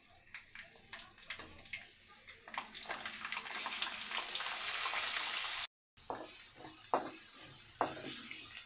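Garlic hits hot oil on a stove while making green chili pickle, producing a hissing sizzle that swells and then cuts out briefly, followed by softer crackling and scattered clattery stirring taps.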